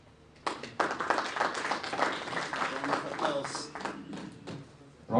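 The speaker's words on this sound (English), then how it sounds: "Round of applause for Mr." Audience applause at a project management conference, a fairly quiet, uneven patter of clapping from a modest crowd, with some talk mixed in.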